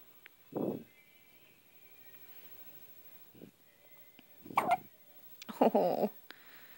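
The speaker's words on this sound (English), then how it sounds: "She does not like these hiccups." A baby girl hiccups a few times in scattered bursts over several seconds, with breathy, voice-like noises in a quiet indoor room.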